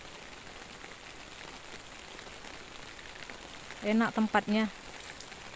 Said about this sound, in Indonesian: Hari ini hujan lagi. Gerimis manja.